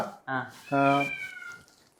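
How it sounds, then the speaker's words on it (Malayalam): A house cat meows twice in quick succession, close and clear, the second call longer and drawn out in a quiet room. "എന്താണ് എല്ലാ പൂച്ചകൾക്കും അമ്പാരെന്ന് പേരിടാൻ കാരണം"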